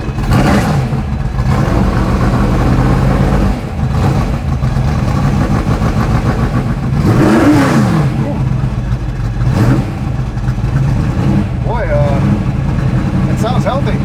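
A Ford GT40 race car engine cranks, starts and revs hard, loud and close, with repeated rising and falling surges over a rough idle.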